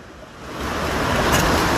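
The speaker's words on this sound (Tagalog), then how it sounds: "Pagkalakas sa dagat. Ang lakas." Loud, rushing surf from strong sea waves swelling steadily louder, a continuous roar of heavy waves close by with no voices.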